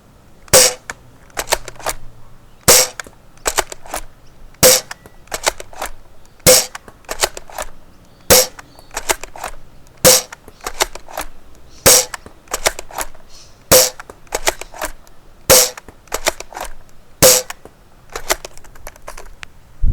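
Worker Prophecy foam dart blaster loaded with silver metal internals firing Worker Gen 3 darts, sharp loud cracks in a steady rhythm roughly every two seconds, each followed by quieter mechanical clicks of priming.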